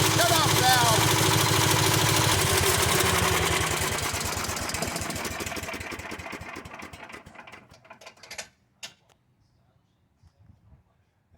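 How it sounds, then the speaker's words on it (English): A Yard Man wood chipper with low compression idles as the gas runs out of its carburetor, its engine chugging steadily, then slowing and sputtering before shutting off into near silence. "So it idles a little bit as the gas runs out of the carburetor, and then it shuts itself off."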